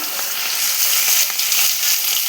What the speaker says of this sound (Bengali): দেখো মাছগুলো সব ভেজে নেবো রুই মাছটা কিন্তু অনেক বড়